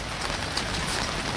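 Rain falls outdoors on tent displays set up for a haunted attraction, a dense, even patter of drops hitting surfaces close by with no voices.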